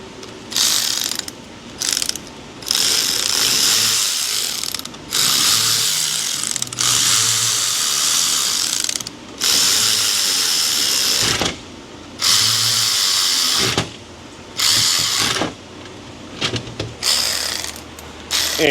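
A hand ratchet clicks in repeated bursts while bolting the phaser actuator back onto a Chrysler Dodge 3.6 engine, with short pauses between sharp, close ratcheting runs.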